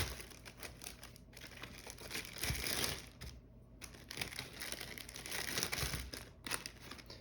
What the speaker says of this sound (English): take your resealable plastic bag and put the strawberries in the bag